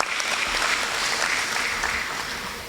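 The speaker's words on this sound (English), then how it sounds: "A round of applause, ladies and gentlemen." An audience at a school prize-giving day claps in steady, sustained applause, a full close wash of hands with no speech over it.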